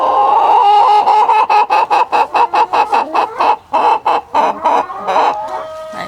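Several backyard roosters on an urban homestead crow and cluck loudly in a rapid run of short, rhythmic bursts that fill the clip, close by with no talking.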